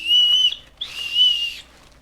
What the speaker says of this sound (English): Why does my umbrella have a whistle?